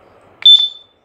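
One short, piercing electronic beep from a battery-powered sports whistle, loud and close, fading quickly into silence.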